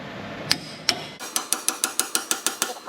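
A pry chisel hammered into a Ford wheel bearing: two separate sharp metal strikes, then a steady run of about ten quick, evenly spaced hammer blows ringing close and loud.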